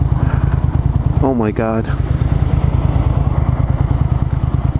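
Suzuki SV650 motorcycle riding with a steady, loud engine drone and rhythmic pulsing; a person exclaims briefly over the engine partway through.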